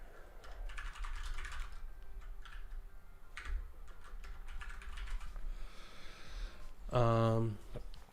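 Rapid typing on a ZSA Moonlander keyboard, with clustered clicky keystrokes in quick bursts and brief pauses, recorded close. Near the end a short voiced sound rises above the keys.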